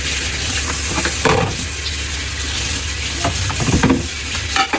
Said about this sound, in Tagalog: masarap na ito kasi halo lang natin dito rice at saka yung beef